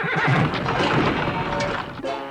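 A cartoon horse lets out a loud, close whinny, then hooves clop as it trots away, with no talking over it.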